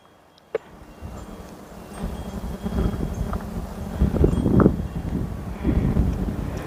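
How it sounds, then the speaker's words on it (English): Outdoors in a garden, wind gusts buffet the camera microphone with a low, rough rumble that swells and surges unevenly after a sharp knock near the start. "the wind got us that time"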